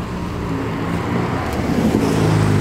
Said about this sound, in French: Bah, c'est une Ferrari.